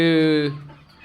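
Hens on a poultry farm of about 1,800 native country chickens give a loud, close, drawn-out harmonic squawk for about half a second, then fade into softer low clucking and farmyard murmur.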